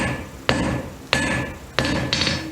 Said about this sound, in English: So I'm going to hit half on, half off, and I draw all the way to the end.